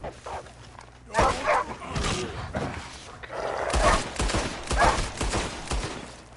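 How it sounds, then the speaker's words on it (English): A dog barks and yips repeatedly at close range, mixed with sharp bursts of noise and other sounds in Red Dead Redemption 2. "Damn dog."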